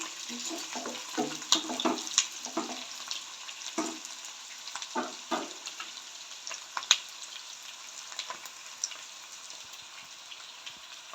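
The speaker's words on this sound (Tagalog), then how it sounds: "Hintayin lang natin mag-light brown yung ating bawang, sibuyas, at saka yung luya" Garlic, onion and ginger sizzle steadily in hot oil for adobong sitaw with pork, a continuous broadband frying hiss broken by occasional utensil clinks and stirring scrapes, fairly close with no talking.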